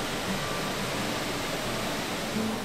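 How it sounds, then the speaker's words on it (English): The falls of Johnston Canyon in the Canadian Rockies roar as a dense, constant wash of broadband noise, loud and unbroken throughout, with no voices. "soak in the soothing sounds of these waterfalls"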